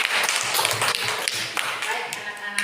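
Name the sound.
applause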